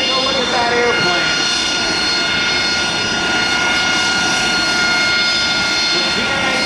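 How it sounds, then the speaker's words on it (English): AV-8B Harrier II jet flying an air show demonstration, a loud continuous roaring whine from the engine filling the air steadily throughout. "But here comes Buzz Tanis in the Harrier"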